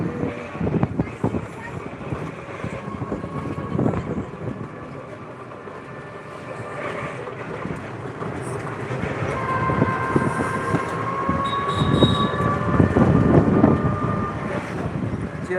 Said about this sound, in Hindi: फाइनली टू अपने गाजीपुर भारत की रेलवे स्टेशन पे पहुंच चुके हैं